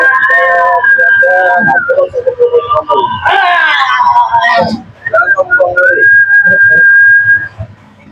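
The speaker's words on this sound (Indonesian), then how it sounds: "Siulnya aja." A person whistles a wavering, siren-like melody in long sustained notes, loud and close, with a brief burst of noisy chatter in the middle.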